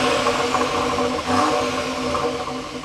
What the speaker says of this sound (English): And here's what those exhausts sound like.